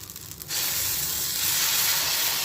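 Adai dosa batter hits a hot dosa griddle and breaks into a loud, steady sizzling hiss that holds evenly after a quieter start.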